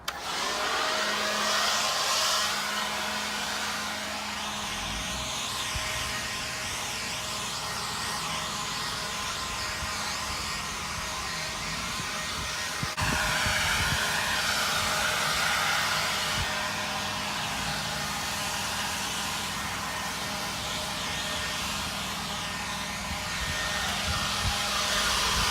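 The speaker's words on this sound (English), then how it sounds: "let's see with the blower, guys, if there's enough juice for use with the blower" A Ryobi cordless leaf blower runs continuously at close range with a steady, loud whirring airflow roar for the whole stretch, shifting slightly in pitch midway as it keeps blowing.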